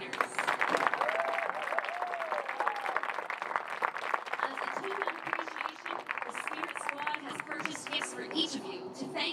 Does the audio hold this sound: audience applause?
yes